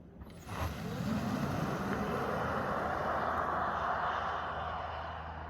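Kia EV6 GT Line all-wheel-drive electric car on the move, heard from inside as a steady broadband road and tyre rumble with a faint whine, constant and fairly loud throughout with no talking.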